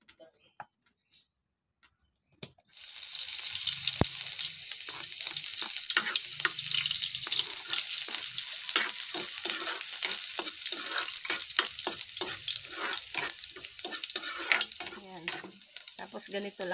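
Sliced bitter gourd stir-fries in a pan, a steady hiss of sizzling broken by spatula scrapes and stirring clatter, after a quiet start.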